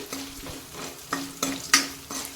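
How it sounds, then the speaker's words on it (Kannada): Masala for masala puri frying in oil in a pan, with a spatula scraping and knocking against the pan in several sharp strokes over a low sizzle. "ಇದೀಗ ಎಣ್ಣೆಯಲ್ಲಿ ಚೆನ್ನಾಗಿ ಫ್ರೈ ಮಾಡ್ಕೋಬೇಕು ನಾವು ಮಸಾಲೆ ಮಾಡಲಿಕ್ಕೆ"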